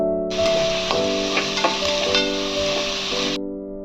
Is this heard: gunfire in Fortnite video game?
no